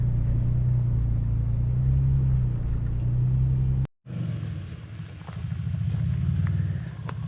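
A Toyota FJ and a 4Runner crawl over trail rocks below 5 mph, a steady deep engine rumble held low in the torque band, cut off abruptly by a brief gap and then resuming slightly lighter.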